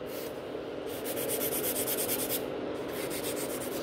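Natural fingernail being filed and reshaped during a manicure, a close, continuous raspy rubbing in quick back-and-forth strokes with short pauses between passes.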